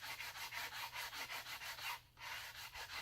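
Wooden self bow sanded by hand with 80 grit sandpaper, a rhythmic series of close, even rasping strokes about every quarter second, with one brief pause near the end and no talk.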